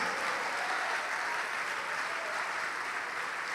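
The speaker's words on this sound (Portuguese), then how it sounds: "vamos aplaudir mais, vem" A church congregation claps in sustained, even applause from start to finish, a dense patter of many hands heard at a moderate distance.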